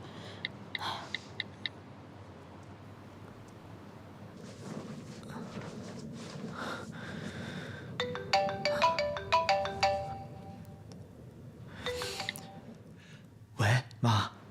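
A phone ringtone plays on an outgoing call in a quiet room. A short ringing melody repeats in a rapid pattern, moderately loud, among soft rustles and brief breathy sounds.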